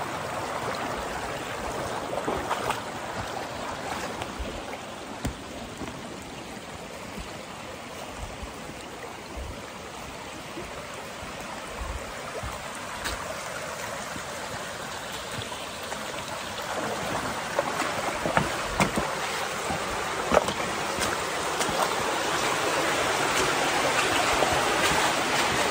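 Water flowing steadily through the Fossé d'Eupen, a well-filled channel carrying water from the Hautes Fagnes, as a continuous close rushing that grows slightly stronger toward the end, with no voices.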